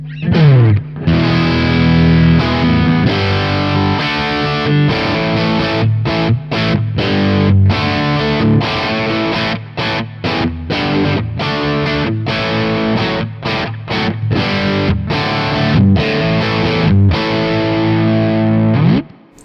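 An electric Les Paul guitar played through a Victory VC35 Copper amp with the gain pushed high plays a loud, distorted rock riff. Chords ring out and are cut off by short rhythmic stops throughout.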